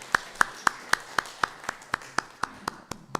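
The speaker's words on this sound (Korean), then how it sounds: "자, 이거 박수 한번, 아버지들께 박수 한번 합니다." A church congregation claps in unison at a Father's Day service, a dozen sharp even beats at a steady rhythm, fairly close, with no talk over them.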